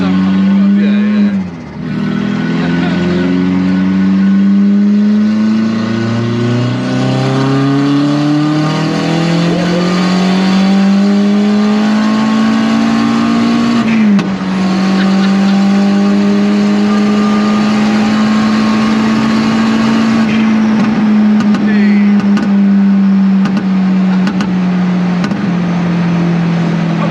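A turbocharged 1.8 20V Mk1 VW Caddy with a bed-mounted exhaust revs loudly and close, its engine tone climbing and falling through several long pulls, while people talk over it.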